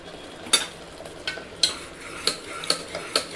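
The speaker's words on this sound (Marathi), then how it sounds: "मसाला चांगला फ्राय करून घेऊयात।" Spiced masala with turmeric and red chilli powder frying and being stirred in a pan for rajma curry, a low steady sizzle broken by about six sharp spoon scrapes and taps at irregular intervals, close and fairly quiet, with no voices.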